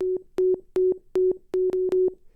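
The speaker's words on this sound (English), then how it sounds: "So now we have this hilarious sine wave." Sine wave sample triggered from an Ableton drum rack pad: a pure steady tone repeated in six short bursts, each with a sharp click at its start and end, loud and alone with silence between.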